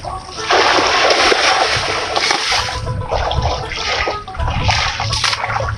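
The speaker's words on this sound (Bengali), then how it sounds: "এই যে আমাদের এই ভাইটি পাট ধুইছে।" A man washes jute stalks by hand in water, out in the open, sending up repeated bursts of splashing and sloshing. The surges come close and loud, one after another, with short pauses between them.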